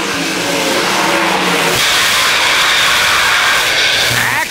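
Sprint cars roaring around a dirt track at an ASCS race, loud engines howling and shifting in pitch as several cars battle close together, with no talk over them.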